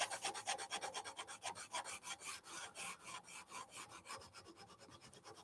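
Rhythmic rasping strokes of hand sanding on a mini guitar kit's wood, steady back-and-forth scrubbing, close and fairly quiet, with no talking.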